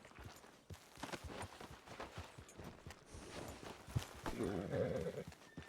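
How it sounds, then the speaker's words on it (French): Horse hooves clip-clop at a walking pace with faint voices in the background and a brief neigh-like sound near the end. "Attention au cheval."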